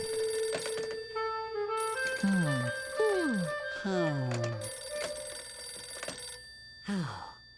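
A cartoon telephone rings with steady repeating electronic tones through most of the stretch, while animated voices talk over it.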